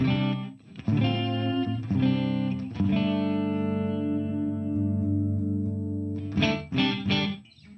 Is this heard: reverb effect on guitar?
yes